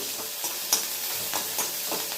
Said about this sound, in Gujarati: આવી રીતે આમ સાતરી લેવાનું